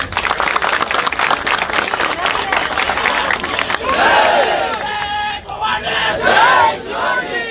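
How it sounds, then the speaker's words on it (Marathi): Crowd at a public gathering on the end of a hunger strike cheering and clapping loudly, a dense continuous roar of voices and applause with shouts rising and falling throughout. "त्यांच्यासाठीच एक टाळ्या वाजवा"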